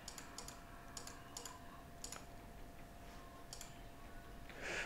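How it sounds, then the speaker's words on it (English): Quiet, close clicks of keys being pressed on a computer keyboard, coming in short irregular bursts with pauses between them, over a faint steady room hum. "When I press on the keyboard, the computer keyboard, it should be making a tone here."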